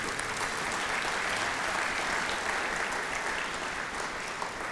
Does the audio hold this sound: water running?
no